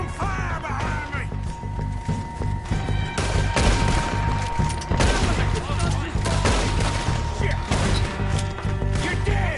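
Shootout gunfire against the O'Driscolls in the video game Red Dead Redemption 2: rapid, repeated close gunshots and crackling volleys in bursts over a dense clattering bed, with no clear speech.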